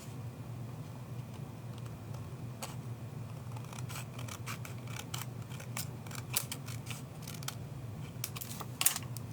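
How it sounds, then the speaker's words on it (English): Scissors snip through paper during a Stampin' Up! papercraft project, a run of quick, light, crisp cuts close by over a low steady room hum. "Okay, so we're going to cut that."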